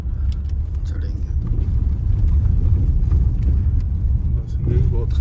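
An Oshan X7 in sports mode climbs an uphill sandy patch at Booni, its engine a steady low rumble that stays loud and continuous throughout, with brief voices faintly heard over it.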